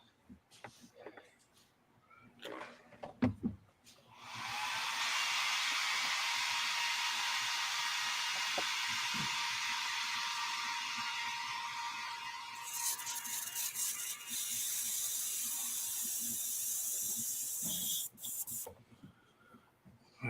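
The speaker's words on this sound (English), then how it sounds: "Clean the airbrush out." An airbrush, one of several Iwata models fitted with Grex quick-connect adapters, sprays a long steady hiss of air and paint as it is flushed clean, running about thirteen seconds with a brighter burst near the end, close and alone.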